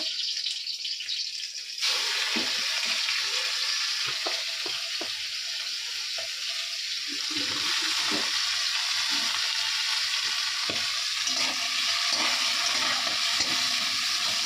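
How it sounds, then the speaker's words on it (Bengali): Onion, five-spice and chili hit hot oil in a pan for a Bengali home-cooked dish, bursting into a loud, constant sizzle with crackling and occasional stirring scrapes close by. "তেলের মধ্যে দেখো আমি পেঁয়াজ পাঁচফোড়ন লঙ্কা দিয়ে দিয়েছি"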